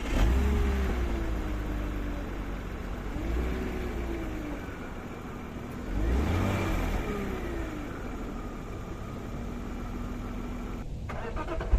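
BMW E46 330Ci coupe with a 3.0 engine, heard from outside as it starts, with the starter whirring briefly before the engine catches and then settles into a steady idle, close and continuous; no talking.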